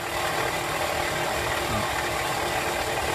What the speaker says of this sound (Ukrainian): побачимо, скільки часу воно переріже 35-сантиметрового, 35-мм діаметру стержень стальний